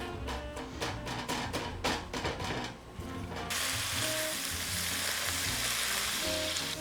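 Sliced onion frying in a pan, a close, steady sizzle that becomes a dense, continuous hiss midway, with faint clicks of a utensil earlier on and no talk.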